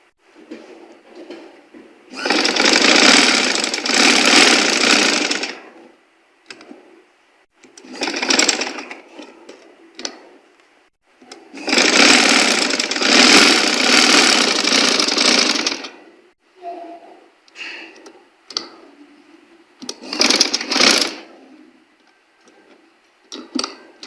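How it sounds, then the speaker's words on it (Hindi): A sewing machine stitches along marked lines on suit fabric in several bursts of rapid, loud whirring, separated by pauses filled with quieter handling and clicking sounds. "अब इन्हीं लाइनों के ऊपर हम सिलाई लगाएंगे।"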